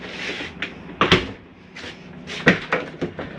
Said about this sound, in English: That's just the slide mechanism telling itself not to come in any further.